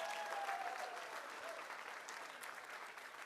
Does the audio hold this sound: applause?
yes